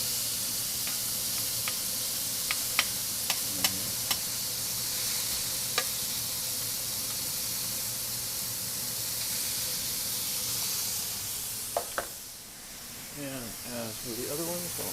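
A smash burger sizzles on a Chantal stainless griddle over a GE Cafe induction range, a steady loud close hiss with a few light metallic taps, then a brief louder scrape near the end.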